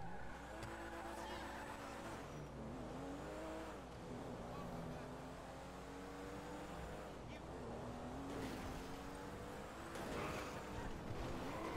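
In GTA 5, a car drifts with a revving engine rising and falling through gear changes, tyres squealing across several slides. A voice talks over the engine noise throughout.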